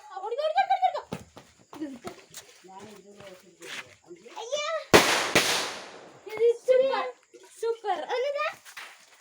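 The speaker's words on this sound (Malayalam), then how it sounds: "നമ്മൾ പടക്കം പൊട്ടിക്കാൻ പോവാണ്." Firecrackers bursting outdoors for the Vishu festival, one loud sharp blast with crackling, plus short pops, while children and adults talk and exclaim throughout.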